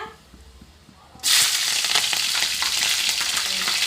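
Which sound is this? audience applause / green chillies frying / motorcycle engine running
green chillies frying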